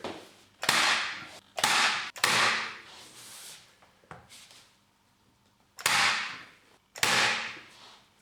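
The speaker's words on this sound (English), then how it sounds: "then we can tack that into position using the tacker" A tacker staples laminate flooring beading into position, firing sharp, loud snaps with brief ringing decays, a few spaced apart, then a quiet gap before two more.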